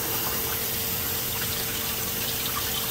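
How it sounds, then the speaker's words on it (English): Water running from a tap into a pot of rice for cooking, a steady, loud, close-up gush that carries on without a break. "And you just add your water,"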